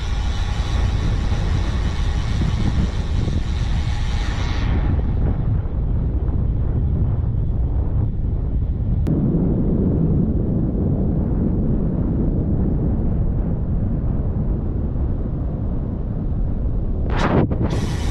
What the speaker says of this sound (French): Il y a un petit peu de vent, mais ça fait du bien.